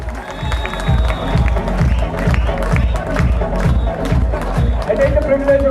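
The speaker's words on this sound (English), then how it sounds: "Let's have a warm round of applause to yourself because one of you has won this award." An audience at an annual day award ceremony claps and cheers in a loud, sustained burst. The applause has a rhythmic pulse, and crowd voices and speech mix underneath.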